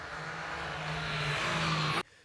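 A Triumph Trident 660 three-cylinder naked motorcycle cruising at about 130 km/h, its engine giving a steady, fairly loud droning hum mixed with wind rush, which cuts off abruptly near the end.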